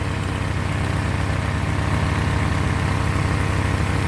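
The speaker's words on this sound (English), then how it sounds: "I can't get over how sweet this engine is." A Ford GPW engine idles steadily and loudly nearby, a continuous low, rhythmic throb with no talk over it.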